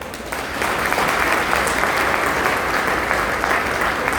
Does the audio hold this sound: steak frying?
no